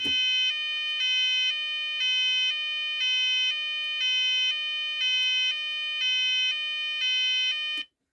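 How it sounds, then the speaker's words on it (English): An old Apollo Alarmsense fire alarm sounder base sounds its multi-tone evacuate signal, a loud electronic tone alternating between two pitches about once per second for several cycles before cutting off abruptly. "So we'll press evacuate on the demo panel."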